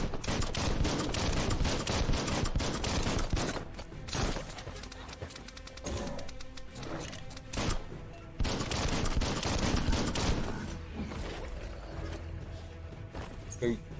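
Dense, continuous gunfire and combat noise from the video game Biomutant on PS5, rapid bursts and impacts layered throughout with brief gaps, loud and busy.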